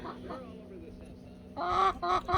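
Hens cluck nearby in short, throaty bursts in a flock with one rooster, quieter at first and then louder and busier toward the end.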